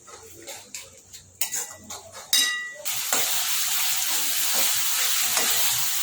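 Onions and tomatoes frying in a pan for chole masala: a few clinks and scrapes of a spoon against the pan, then a loud, steady sizzle as the tomatoes hit the hot oil, close up with no talking.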